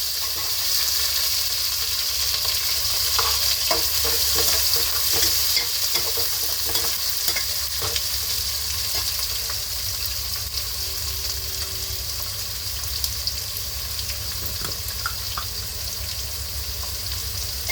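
Onions and green chillies fry in a pan with a steady sizzle and occasional stirring scrapes, close and continuous with no talk.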